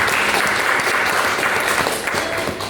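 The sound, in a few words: audience applause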